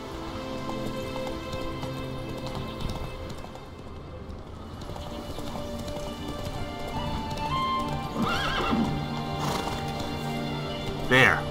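Roach the horse gallops in The Witcher 3, hooves clip-clopping steadily up close over a layered game soundscape, with rain, a whinny and scattered effects rising near the end.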